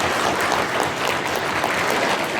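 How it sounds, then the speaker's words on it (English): A convention audience gives the Devil May Cry voice cast a big round of applause: dense, steady clapping from a large crowd, loud and continuous throughout, with no voices rising above it. "Let's have another big round of applause."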